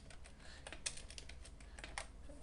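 Close, soft keystrokes patter in an irregular run as code is entered on a computer keyboard for a Game Maker GML project, a couple of sharper clicks standing out, with nobody speaking.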